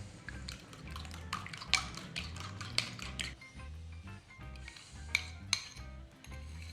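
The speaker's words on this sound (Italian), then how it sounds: "Continuo a mescolare e a sciogliere il burro." Butter, sugar and eggs being mixed in a bowl for grandma's dunking biscuits, a steady soft stirring with repeated sharp clinks of the utensil against the bowl, close up and alone.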